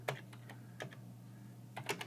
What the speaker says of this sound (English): we're going to type two commands